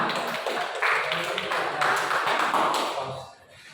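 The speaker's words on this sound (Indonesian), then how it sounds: "Beri aplaus untuk temannya." A classroom of students claps for a classmate, a brief ragged patter of applause that swells and then fades out.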